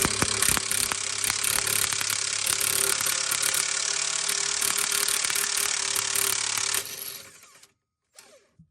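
An impact wrench drawing a urethane sway bar bushing into place on a 1991 Audi Avant 20V, one long, loud, continuous hammering rattle lasting about seven seconds, then dying away with a short final burst.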